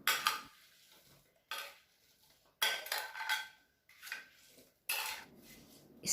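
Sliced apples tipped from a bowl into a baking pan for a shortcrust apple bake, giving a few separate bursts of clattering and scraping dishware, moderately close, with quiet gaps between.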